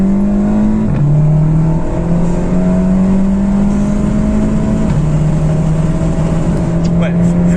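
A VW Golf 7 GTI tuned to Stage 1 at 320 hp accelerates hard from inside the cabin. The loud engine note climbs steadily, dropping briefly at a few gear changes before rising again.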